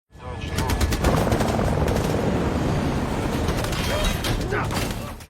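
Rapid machine-gun bursts rattle over the steady thrum of a helicopter in a film attack scene, loud and continuous with scattered explosive hits throughout.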